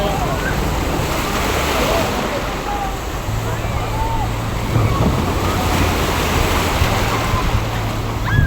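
Steady rush of surf and breaking sea waves on a Boracay beach with wind buffeting the microphone, continuous and fairly loud throughout.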